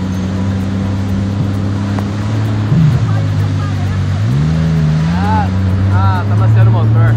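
A 2019 Sea-Doo jet ski engine being broken in idles with a low, steady drone, then revs up twice in rising pitch swells before settling, close and loud, with people talking over it.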